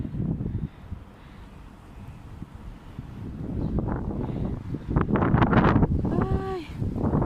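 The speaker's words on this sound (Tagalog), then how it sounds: "Lakas ng hangin." Strong sandstorm wind in Kuwait gusting and roaring against the microphone, swelling louder toward the end, with people talking briefly amid the rush.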